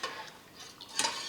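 A spoon stirs a ragi flour and water mixture in a pot, making a few brief scraping swishes and one sharper clink near the end, close and alone.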